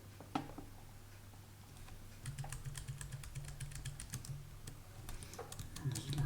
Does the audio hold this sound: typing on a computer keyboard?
yes